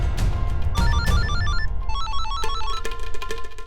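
An electronic telephone ringtone plays a repeating melodic pattern of bright tones during an outgoing call, loud and clear over a low background rumble.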